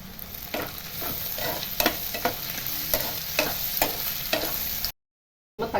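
Onion, garlic and ginger fry in a pan with a steady sizzle and repeated stirring scrapes, close and fairly loud, with no talking and a brief cut near the end.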